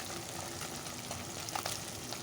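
Small fish frying in a pan with onion, chili and tomato, a steady close crackling sizzle with occasional brighter pops, no talk.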